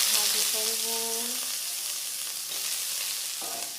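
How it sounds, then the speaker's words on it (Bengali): Lentil dumplings (dal bori) fry in a pan with a bright, steady sizzle, and a faint tonal hum sits under it early on before the crackling carries on alone. "তৈরি ডালের বড়ি এটাকে ভাজি করব।"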